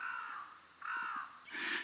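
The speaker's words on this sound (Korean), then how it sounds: "저 위에 수리들이랑 까마귀들이랑 한바탕 붙고 있어요." Crows caw repeatedly overhead as they tussle with eagles above a rural road on Tsushima island, three drawn-out harsh calls at moderate distance over steady outdoor background.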